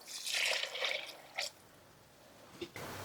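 Chicken broth pours from a quart jar into a crock pot, a soft splashing rush up close that tapers off into a few quiet drips.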